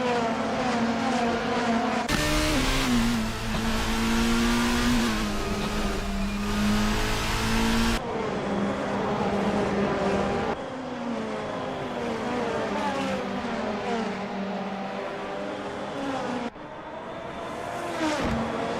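Race cars lap Suzuka in a racing video game during a Mie Super Prix, engines screaming steadily at high revs with rising and falling pitch through gear changes, loud and continuous with several overlapping cars.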